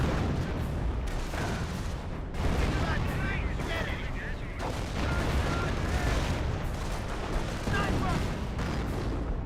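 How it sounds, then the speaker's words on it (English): A Calliope rocket barrage fires during a Company of Heroes battle, a dense, continuous rumble of launches and blasts mixed with gunfire, with a commentator talking over the top throughout. "Calliope rocket barrage firing on in"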